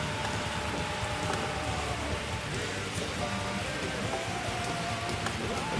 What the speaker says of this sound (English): You guys just enjoy the rain. I'm enjoying the rain.